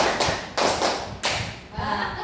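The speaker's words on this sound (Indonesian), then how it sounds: "Tepuk 1, tepuk 2, tepuk 3, tepuk 4, tepuk 5." Rhythmic hand clapping from a classroom clapping game, with sharp claps falling in a counted pattern at close range as a group claps along; no voices break through.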